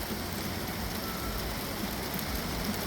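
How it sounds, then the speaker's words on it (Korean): Autumn rain falls steadily outdoors, a continuous broadband hiss of drops with faint low rumble beneath, no voices. "이게 비가 많이 오네요"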